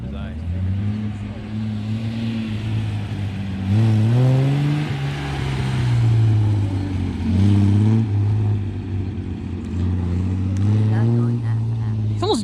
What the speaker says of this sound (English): It's almost drifting though, just flooring it. I'm doing a little burnout.